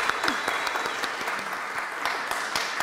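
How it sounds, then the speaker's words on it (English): A masterclass audience clapping in a hall, a steady close patter of many hands throughout the short stretch, with no talk over it. "And everybody clap."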